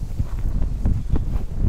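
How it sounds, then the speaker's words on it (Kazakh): Strong wind gusting over the Yesil River near Astana during a winter fishing trip by boat: low, buffeting rumble close on the microphone, rising and falling in uneven bursts with no voices. "Жел күшейіп кетті."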